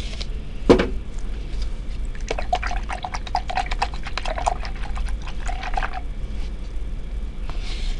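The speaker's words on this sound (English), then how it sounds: "And I'm going to clean my brush." A paintbrush being cleaned, with a run of quick, light splashing and dripping taps in water for several seconds after an initial knock, fairly close and alone.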